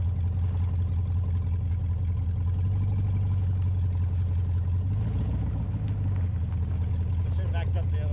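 An LS-swapped Chevrolet S10 truck with a recent overheating issue, its engine rumbling low and steady as it pulls off on a short first drive, heard from inside the cab.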